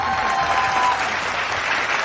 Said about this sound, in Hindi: एक बार फिर तालियां हो जाए